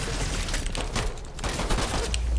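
Rapid bursts of video game gunfire, dense overlapping shots rattling continuously and loud from start to end.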